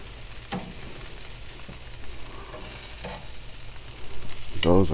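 Food sizzles on a smoker grill in a continuous crackling hiss, broken by occasional clanks and scrapes of handling, with a louder rustle near the end and no talking.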